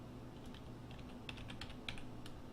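Keys clatter on a computer keyboard in irregular bursts of clicks, fairly faint and close over a steady background hum, with no talking.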